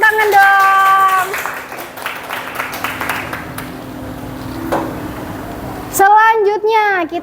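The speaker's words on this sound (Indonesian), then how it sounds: "Beri tepuk tangan dong" Children clap together in a classroom, a steady patter of applause lasting several seconds, with a teacher's voice speaking over it at the start and end.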